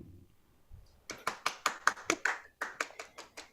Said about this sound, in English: Put your hands together, please, for Nia.